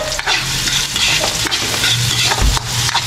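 Garlic, onion and ginger frying in a pan for a coconut-milk dish, a loud continuous sizzle broken by repeated scrapes and clacks of a stirring utensil.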